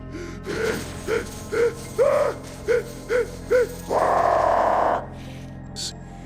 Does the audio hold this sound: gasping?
yes